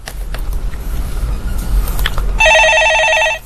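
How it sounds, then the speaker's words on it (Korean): A telephone rings loudly in a Korean stock-market call-in show studio: a single electronic trilling burst cuts in over steady background rumble and lasts about a second. "네, 전화 받겠습니다."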